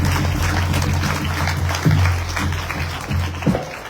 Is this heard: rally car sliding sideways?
no